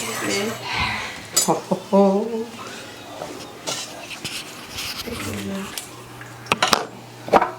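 Beef stew with onions and tomatoes being stirred in a pot at home, the spoon scraping and clinking against the pot in short bursts, with a voice speaking over the stirring.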